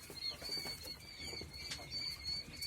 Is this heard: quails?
yes